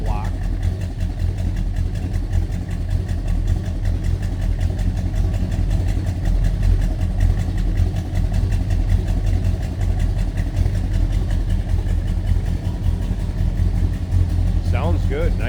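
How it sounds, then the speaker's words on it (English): Warm 1970 Pontiac GTO with a numbers-matching 400 cubic inch V8 idling steadily, a deep throaty exhaust rumble held at a constant level with no revving, while someone talks over it. "Nice rumble coming out of that. Deep throaty exhaust."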